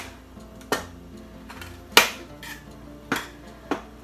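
A knife cuts six tablespoons of butter inside a big metal cake pan, giving four sharp metallic clinks spaced irregularly over a few seconds against a quiet background.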